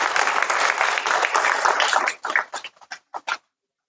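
A crowd claps for a prize winner at a carrom academy prize distribution in Moradabad, a dense burst of applause that breaks into a few scattered final claps before falling silent.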